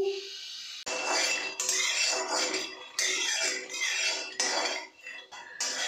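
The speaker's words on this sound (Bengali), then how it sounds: "বাদাম চলে গেল কড়াইতে, এবার চলো একটু ড্রাই রোস্ট করে নিই।" Steady scraping and rattling of peanuts being dry roasted and tossed in a metal wok, with clinks and shuffles continuing throughout and no voices.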